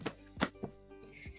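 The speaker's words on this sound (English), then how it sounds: "To make a noise, you can bang on your desk like my students do." Hands bang on a desk in a classroom warm-up routine, making several hollow thumps at an irregular pace, fairly quiet and with no voices.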